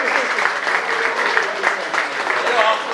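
Audience applause at an event, dense sustained clapping from many hands at a fairly close, even level.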